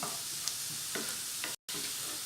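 Crushed garlic sizzles in a frying pan with a steady, soft hiss, while a spoon scrapes and stirs through it in a few distinct strokes.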